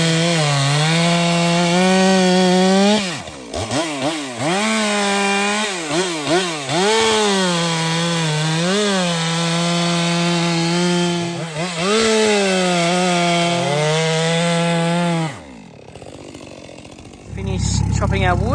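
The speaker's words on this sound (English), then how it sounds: "if you've got a chainsaw, you can cut it up in little smaller bits" A chainsaw roars close up at a riverside campsite, its engine pitch rising and dipping as it bites into firewood, then cuts off near the end.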